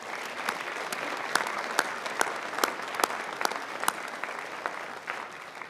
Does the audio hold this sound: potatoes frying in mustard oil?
no